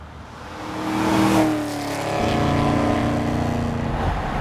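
A tuned 700 HP Hennessey Camaro ZL1 V8 revs up loudly, swells to a peak, drops briefly, then holds a strong rising engine drone close by.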